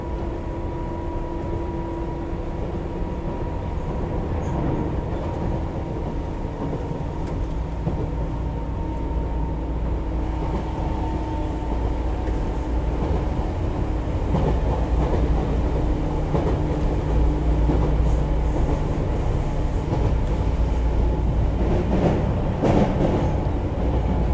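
Inside a Tobu 10030 series train on the Asakusa–Ota section express, a continuous low rumble and motor hum roll on, with occasional rail clicks and rattles growing toward the end.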